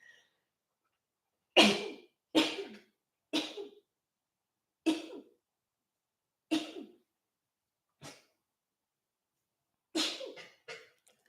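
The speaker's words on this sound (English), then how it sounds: "Oh my God, lots of sneezes" A series of sharp, explosive sneezes, about eight in all, spaced irregularly with quiet gaps between them, close and loud.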